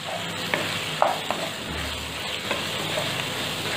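Pointed gourd with red chilli and salt fries and sizzles in a pan while a spoon stirs it, giving occasional light clinks and scrapes over a steady hiss.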